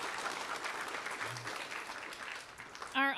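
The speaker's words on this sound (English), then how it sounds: "ask them for a round of applause for being a great sponsor" A conference ballroom audience applauds a sponsor, producing a steady, moderate wash of clapping that fades slightly before a brief voice cuts in at the end.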